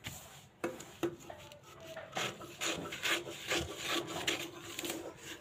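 Scissors cutting blouse fabric at a tailoring table, soft close snips and rubbing scrapes in an irregular run, quiet and dry with no talk.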